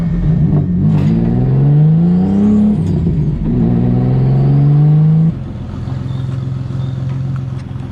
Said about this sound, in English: I'm pretty sure he's gonna capture enough exhaust noise for the both of us